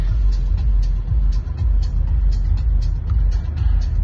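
A car drives along with a steady low engine rumble and road noise from inside the cabin, with faint rhythmic ticking over the drone.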